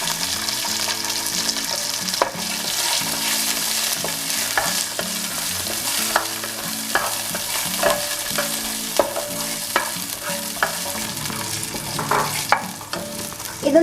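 Green chillies, garlic, ginger and shallots fry in hot oil in a pan, a steady close sizzle broken by repeated clinks and scrapes of stirring, with no talking.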